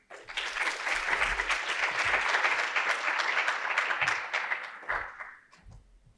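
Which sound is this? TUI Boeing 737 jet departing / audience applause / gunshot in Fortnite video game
audience applause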